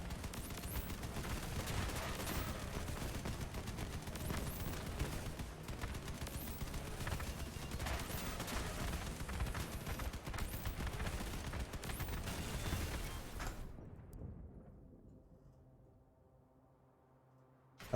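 Machine gun fire in the video game Crossout, rapid continuous bursts that stay loud and dense, then cut off abruptly near the end, leaving quiet.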